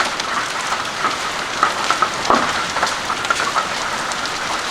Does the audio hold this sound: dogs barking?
no